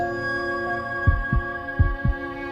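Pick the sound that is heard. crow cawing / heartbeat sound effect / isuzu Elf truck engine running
heartbeat sound effect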